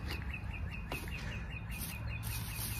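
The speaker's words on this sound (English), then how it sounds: "Wow, just listen to that bird." A bird sings outdoors with repeated high, thin chirps in a steady pattern over a constant broadband background hum, fairly faint and without speech.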